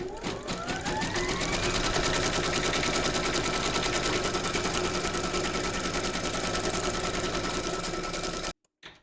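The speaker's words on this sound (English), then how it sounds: "Pop your hoop into your machine and stitch round number 11, and that's going to secure our backing fabric in place." An embroidery sewing machine stitches backing fabric held in a hoop, a loud continuous rapid whir close by for about eight seconds before stopping abruptly, followed by a brief clunk.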